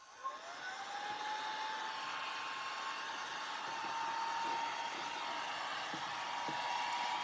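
A hair dryer runs continuously nearby, drying a handmade painted Christmas stocking craft, its steady whooshing airflow and faint motor whine holding at an even level from start to finish.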